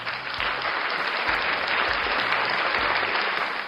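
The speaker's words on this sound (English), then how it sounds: "round of applause." A large crowd applauds loudly and continuously, a dense, steady wash of clapping that holds for a few seconds without letting up. No voices stand out.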